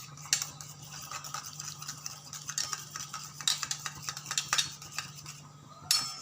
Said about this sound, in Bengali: একটু ভালো করে মিশিয়ে নিই।